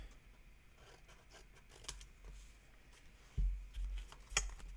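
Scissors cutting paper corners at an angle for a pop-up surprise box craft, a few quiet snips and rustles up close, ending in louder crisp cuts and paper handling, with no talking.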